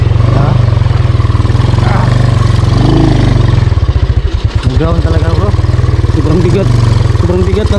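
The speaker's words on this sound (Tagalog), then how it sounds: "parang nagloko yata yung motor mo po." A motorcycle engine that seems to be acting up idles loudly close by with a steady low throb, which briefly falters and sputters midway, while people talk over it outdoors near a river crossing.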